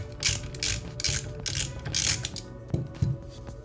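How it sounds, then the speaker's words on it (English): Ratchet on a 10mm socket loosening the foot nut on a suspension fork lower, giving close, quick bursts of rapid clicking in a loose rhythm, alone with no talk. "Use our 10mm socket to remove"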